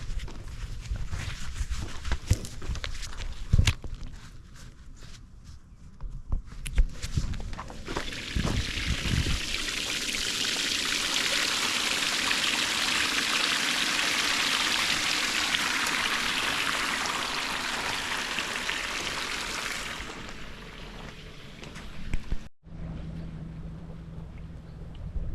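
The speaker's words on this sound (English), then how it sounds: "So here we go, turn on the pump." A pump filling an aboveground backyard koi pond sends out a steady rushing, pouring hiss of water that runs for a long stretch after some earlier handling noises, then cuts off abruptly.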